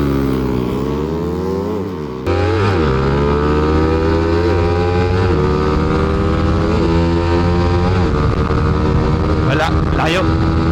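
Suzuki Raider carbureted motorcycle engine running loud and steady during a race against another bike, its revving pitch climbing and dipping, with brief drops and faint voices beneath.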